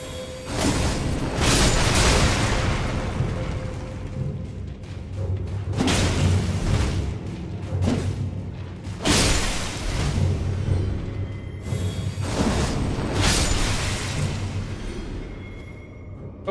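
Explosions in the video game Elden Ring, several loud booming blasts at intervals, each a sharp burst followed by a rumbling decay, separated by lower game ambience.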